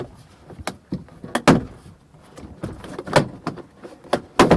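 Plastic trim clips popping loose as a rear door panel is pried off a 2014–2019 Toyota Corolla, a series of sharp close snaps and clicks spread irregularly through the clip, no talking.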